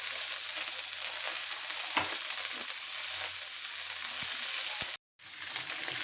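Green chillies fry in hot oil in a pan where hilsa fish heads were just fried, a steady sizzle close up with scattered scraping knocks from stirring and a brief cut to silence near the end.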